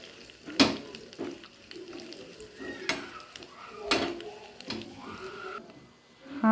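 A spice tempering with turmeric and red chili powder is stirred and fried in a small pan, soft sizzling broken by sharp clinks and scrapes of a spoon against metal.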